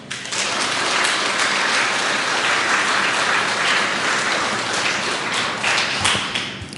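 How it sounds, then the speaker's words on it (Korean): Congregation at a Korean church's New Year Sunday service applauds the choir, a dense, steady wash of many hands clapping loud and close for several seconds, tapering slightly at the end. "우리 2018년도 한 해에도 좋은 찬양을 불러달라고 우리 성가대에게 큰 박수 한번 드리죠"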